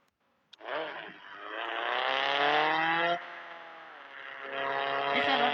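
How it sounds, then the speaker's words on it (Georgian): A car drifting with a loud, sustained engine roar that rises in pitch, dips briefly, then surges again close by; voices can be heard faintly. "ეხლა რა გაბადრიფტავ მანქანა"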